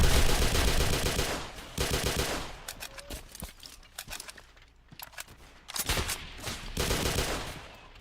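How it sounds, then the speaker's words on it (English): Heavy sustained gunfire in a Roblox game: loud rattling bursts at the start, then scattered individual shots through a quieter stretch, and dense volleys returning toward the end. "Keep firing, keep firing!"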